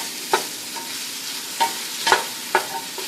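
Onion and garlic fry in a pan with a steady, close sizzle, and a spoon taps and stirs the pan in short, regular knocks.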